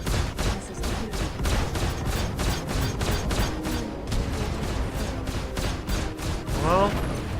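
A missile attack in the space combat game Star Citizen, with dense overlapping bursts of gunfire and explosive booms continuing loudly throughout, ending in a rising whine.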